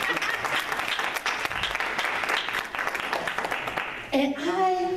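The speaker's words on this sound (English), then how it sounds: "Can I get a couple more women to clap right there with me?" An audience claps steadily for about four seconds at a religious gathering; the applause then gives way to a single voice speaking.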